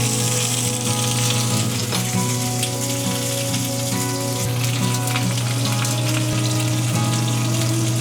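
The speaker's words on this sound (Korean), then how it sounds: "만두를 튀긴다." Steady, dense sizzling of dumplings frying in hot oil, crackling and popping continuously at close range with no talking.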